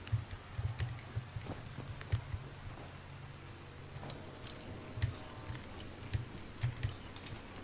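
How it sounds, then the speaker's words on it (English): Rain falls in the video game Dying Light: a soft steady patter with scattered sharper drips and ticks, quiet throughout, and no talk. "It's raining."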